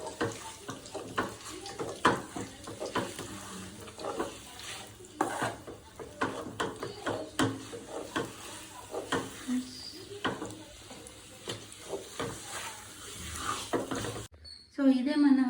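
Dry fruit laddu mixture roasting and being stirred in a pan, with steady close scraping and soft sizzling throughout, a brief clatter of utensils near the end.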